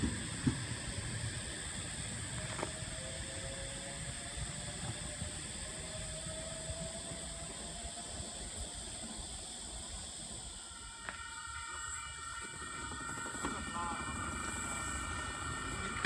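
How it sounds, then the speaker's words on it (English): A V set intercity train, V47, passes through Wondabyne Station on the NSW Central Coast–Newcastle line, heard as a steady rumbling roar with rail whine and high tonal squeals rising toward the end, over continuous insect chirping outdoors. "we've got a V set coming through, and it is V47"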